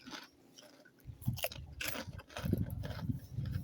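Crunchy chicharon, fried pork rind served at a lomi eatery in Rosario, Batangas, being bitten and chewed close up, with a quiet pause before repeated crisp crunches and steady chewing that grow louder toward the end.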